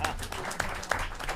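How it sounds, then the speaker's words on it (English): Brief applause from an audience at a mayoral media event in New York for the city budget director, a short burst of clapping with some voices and noise mixed in. "but give him a round of applause."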